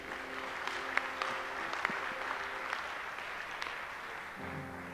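A church congregation applauds and acclaims Jesus during worship, a steady wash of clapping sustained throughout with scattered sharper claps standing out, moderately distant and even in level.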